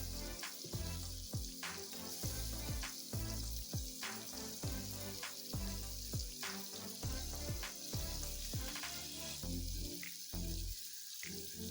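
Shell-on lobster pieces fry in a pan, giving a steady bubbling sizzle broken by repeated sharp clicks and knocks of shells and utensils against the pan, with no talking.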